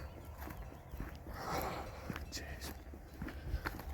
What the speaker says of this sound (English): all the cows seem to be they're females, so I think they're milking cows. They seem to be heading home.